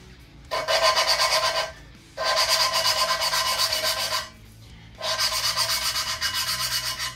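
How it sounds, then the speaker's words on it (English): Gritty rasping grinds in three long bursts with short pauses between, each a rapid back-and-forth scrubbing as an engine valve is hand-lapped into a Ford GT40 cylinder head, close and fairly loud. "as I'm spinning this, I'm putting downward pressure onto the valve"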